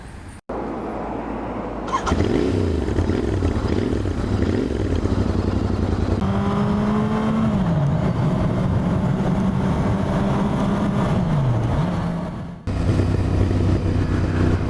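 A Royal Enfield Continental GT 650 motorcycle runs with a steady engine drone that rises and falls as the rider shifts and changes speed, loud and close throughout, briefly dipping before picking up again.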